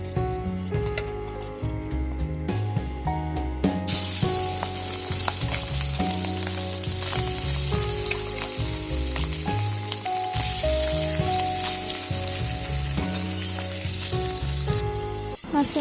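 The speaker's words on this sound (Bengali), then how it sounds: "কড়াই হেসেলে দিয়ে তেল দিয়ে দিলাম মাছের মাথাগুলো ভাজি করার জন্য" Fish heads fry in hot oil in a wok set on a clay stove, a steady close sizzle running throughout, with faint bird coos in the background and no talking.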